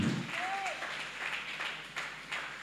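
Congregation applauding in a church after a Bible reading, a steady wash of clapping that holds for a few seconds, with a voice faintly over it.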